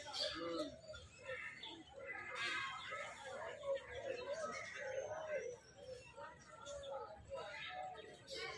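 Birds call across a park at Lake View Park in Islamabad, where a peacock, pigeons, ducks and parrots are present. Busy, overlapping chirps and coos fill the scene steadily, with indistinct voices mixed into the background.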